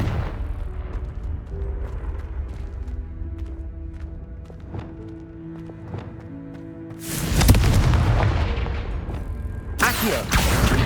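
Confringo spell explosion in the video game Hogwarts Legacy, a sudden loud blast bursting out over a quieter bed of game ambience and music, with a second burst near the end.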